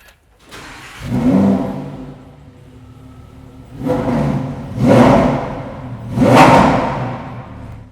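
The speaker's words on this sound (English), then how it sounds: "you can hear even more of that beautiful Italian V10 engine" A Lamborghini Huracán EVO Spider's naturally aspirated V10 revving: a rising blip, then two more sharp throttle bursts settling back to a low idle in between, loud and close with no talking.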